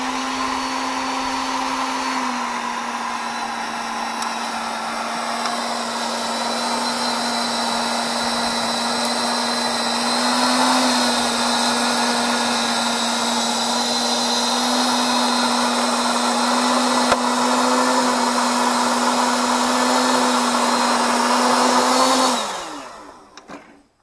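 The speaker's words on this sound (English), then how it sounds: "It kind of sounds like a glorified hair dryer, but it really does do the job." A Scotts 13.5 amp electric tiller runs with a steady motor whine, holding an even pitch at close range and cutting off abruptly near the end.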